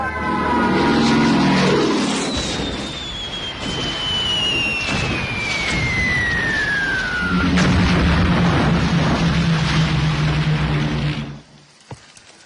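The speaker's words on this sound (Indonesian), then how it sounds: "Kediri sudah dilululantakkan oleh pesawat-pesawat Belanda" Dutch military aircraft bomb a town, heard as a loud, continuous war-film roar of engines and explosions, with a falling whistle like a dropping bomb, before the din cuts off abruptly near the end.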